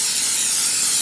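A short, steady hiss of cooking spray lasting about a second, close and fairly loud, with no talking.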